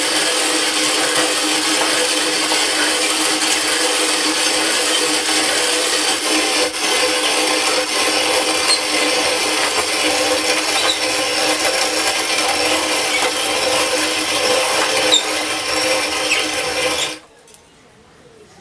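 Roasted coffee beans are ground by hand-made artisanal methods, a steady, loud rasping grind that runs without a break and then stops abruptly near the end.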